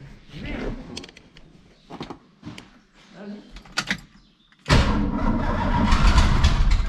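A car engine cranks and catches after a stretch of people talking nearby, then runs at a loud, rough, steady idle close by.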